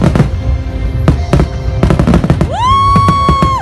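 Fireworks at Saudi National Day celebrations burst loudly in sharp, irregular cracks and pops, followed by a rising whistling shell that holds a long tone.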